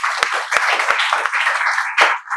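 Applause from a classroom of students at a spoken English institute: dense, steady clapping from many hands, fairly close and loud, with a few sharper individual claps standing out.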